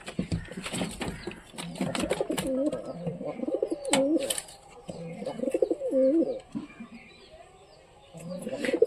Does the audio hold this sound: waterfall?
no